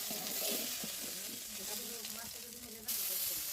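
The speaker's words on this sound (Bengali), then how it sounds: "কড়াইয়ে তেল দিয়ে দেওয়া হয়েছে এবং মাছ দিয়ে দেওয়া হচ্ছে" Snakehead fish sizzle and spit in hot oil in a wok, a steady soft frying hiss with faint stirring scrapes, fairly quiet and heard on its own.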